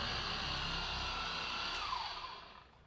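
A car polishing machine runs on a low speed setting, spreading polish over car paint with a steady close whir and hiss before spinning down and fading at the end.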